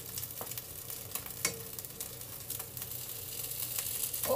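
Food fries in a pan over high heat with a steady, close crackling sizzle, scattered with sharper pops and spatters, heard alone without talk.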